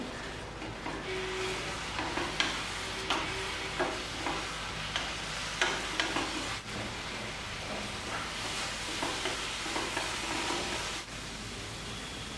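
Coconut burfi mixture of grated coconut and sugar being stirred in a pan as it thickens, a steady scraping and stirring with soft sizzling throughout, close and continuous with no voices.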